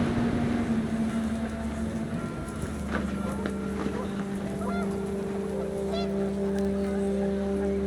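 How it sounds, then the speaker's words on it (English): Panicked geese in the video game What Remains of Edith Finch honk repeatedly over a steady low engine-like drone and wind, the calls rising and falling in a busy, fairly loud cluster. "panicked geese appeared and quickly went"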